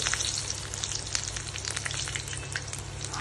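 Fish pieces frying in hot oil, a steady close sizzle with crackling pops and spatter throughout, no voices.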